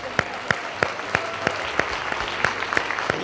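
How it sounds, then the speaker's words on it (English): A group clapping at an awards celebration, with sharp, evenly spaced claps standing out over softer background applause from the audience, moderately loud and fairly near. "I do want to give a round of applause for everyone who is involved tonight"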